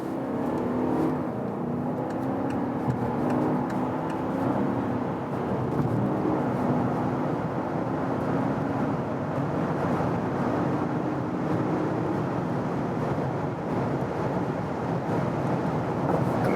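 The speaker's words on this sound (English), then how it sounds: "So we are going again to about 50 kilometers an hour and just see how far it goes" A VW Touareg V8 TDI accelerates toward high speed on a German road, heard from inside as a steady engine drone mixed with heavy road and wind roar, with no talking.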